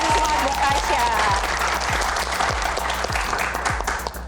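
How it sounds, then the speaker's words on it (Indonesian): Studio audience applause on a TV talent show, loud and continuous, mixed over a regular low thumping beat and a steady tonal background. "Tepuk tangan"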